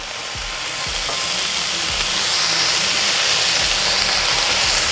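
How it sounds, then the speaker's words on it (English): Bacon sizzles on a Halo Elite 4B griddle over medium-low burners, a steady close frying hiss that builds slightly and runs without a break, with a few soft low knocks early on. "let's get a little bit of bacon going"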